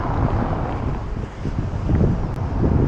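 Strong storm wind on Pico island in the Azores roars steadily into the microphone, a dense, continuous buffeting rush with no pauses.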